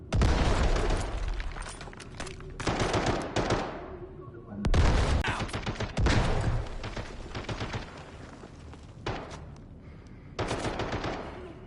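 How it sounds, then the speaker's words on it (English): Grenade blasts and heavy bursts of automatic gunfire in the video game Delta Force Black Hawk Down: loud, dense volleys that stop and start in clusters, with a few booming hits mixed in. "Throwing frag! Grenade!"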